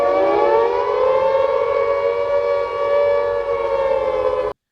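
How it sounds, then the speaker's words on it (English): A siren sound effect in a music track wails alone in one long, steady, slightly falling tone, then cuts off abruptly. "I put the siren in it because I was like, yo, this sounds like a stadium record."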